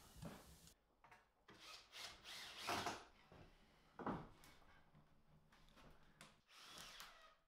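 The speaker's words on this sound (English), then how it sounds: "It can now be attached to the side of the OSB, by just driving some screws up into it." A power drill drives screws up into OSB board in a workshop, with several short whirring bursts and woody scraping and clunks between them, fairly quiet overall.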